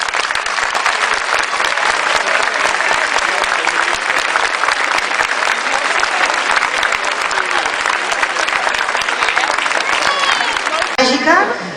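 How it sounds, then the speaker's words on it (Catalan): Strong applause from a large audience at an event in Calella, dense sustained clapping that fills the whole stretch loudly and evenly before fading at the end. "Amb ella us demano, sisplau, un fort aplaudiment."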